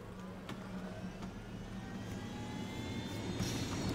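Helicopter in Ghost Recon Wildlands, a steady engine drone with a low rotor thrum that grows slightly louder over a few seconds, heard alone without talk.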